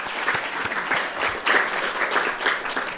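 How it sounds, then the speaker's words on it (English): A symposium audience applauds in a hall, dense continuous clapping from many hands, loud and close throughout with no voices over it. "I think we should give her and the USIP and Lise, of course, an applause."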